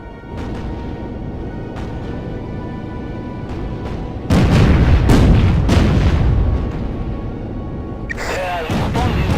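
Booming artillery and gunfire from the naval combat game Battlestations Pacific: loud, heavy blasts that build into a rumbling barrage, with faint, softer shots beforehand and another burst near the end.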